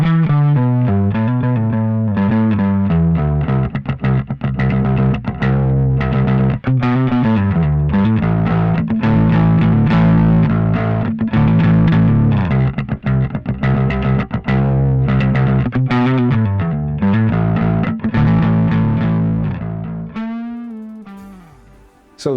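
A Grez Guitars Mendocino bass guitar is played through heavy distortion, with loud, sustained, gritty notes and a steady run of plucked phrases alone for over twenty seconds.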